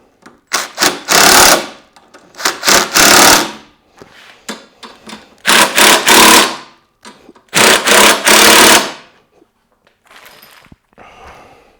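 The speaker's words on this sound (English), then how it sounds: "now we can come to the back and tighten up our rear crossbar" Hand tool tightening the rear crossbar of a pannier rack on a Yamaha T7 motorcycle: loud bursts of rapid ratcheting clicks, close up, coming in several separate runs with short pauses between them and no talking.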